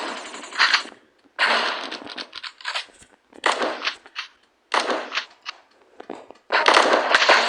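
Double minigun in a shooting video game, long rapid bursts of gunfire separated by short pauses, loud and close with no talk.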